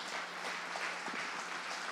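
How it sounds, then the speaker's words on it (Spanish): Congregation applause during a Spanish-language church sermon on a Sunday morning, a steady, faint wash of many hands clapping at a distance with no voices over it. "Denle un fuerte aplauso a Cristo en esta mañana."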